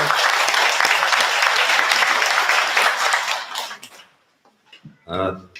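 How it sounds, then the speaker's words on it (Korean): A church congregation claps in welcome at a mass celebrating the centenary of a hanok-style church, dense applause that fades out near the end, followed by a brief spoken voice. "다 같이 환영의 박수 부탁드립니다."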